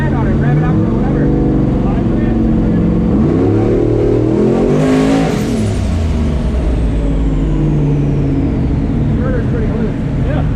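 A turbocharged 5.3 V8 engine makes a loud, continuous roar throughout. Its pitch sweeps up and down as the throttle is pushed and eased, and a voice talks over it.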